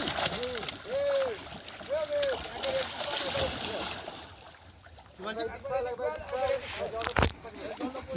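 Fish released into a pond splash in the water in bursts, with one sharp splash late on, under near-continuous excited talk from several voices.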